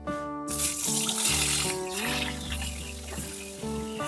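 Eggs fry in hot mustard oil, giving a continuous crackling sizzle under louder background music, close and fairly steady throughout.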